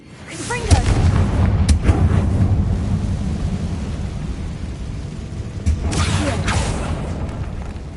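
A fiery Confringo spell explodes in the Hogwarts Legacy video game inside a decayed spider catacomb, with booming blasts around one second and again near six seconds over a sustained rumbling roar.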